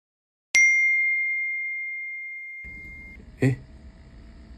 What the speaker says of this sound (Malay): Di kedai makan, Azam menerima mesej dari Amir.